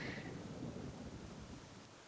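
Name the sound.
rain and thunder in the WolfQuest video game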